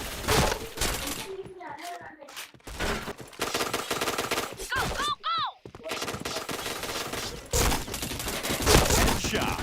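Rapid gunfire bursts in a shooter video game, loud and close, with short pauses and ricochet-like whines between volleys, while a voice is heard over the action.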